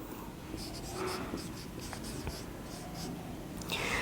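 Chalk or marker scratches across a classroom board in short, repeated strokes, close and moderately loud, with a low background hum and no talking.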